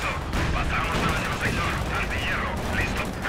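Continuous machine gun fire and battle noise in the World War II strategy game Company of Heroes 2 during a 4v4 Wehrmacht match, a dense steady roar of shooting with faint in-game shouts throughout.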